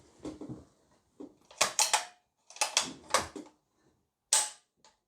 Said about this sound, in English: We'll now demonstrate a dry fire.